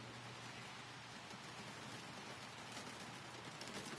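Rain pours in the Gold Mining Simulator video game, a constant soft wash of falling drops heard faintly and alone throughout, without any voices.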